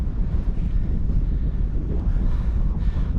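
Heavy wind buffets a microphone fitted with a cheap foam windshield on a hike at Macclesfield Forest, Peak District, a constant loud low rumble and roar with no voices.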